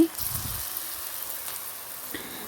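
Corn pakoras go one by one into hot oil, raising a steady crackling fry with soft drops and occasional small splashes.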